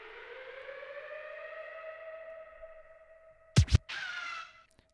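A wailing siren sound effect rises and holds a steady tone inside a music track, then is cut by a couple of sharp thumping hits and a short burst before fading out.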